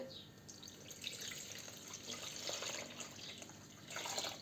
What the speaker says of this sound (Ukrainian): у каструлю вливаємо воду